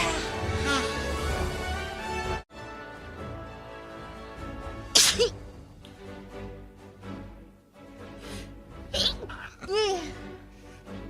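Several sharp sneezes from a young woman, scattered and separated by quiet pauses and nose sounds, close to the mic with no talking.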